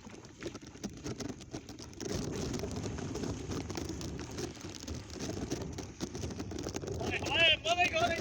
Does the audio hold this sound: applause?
no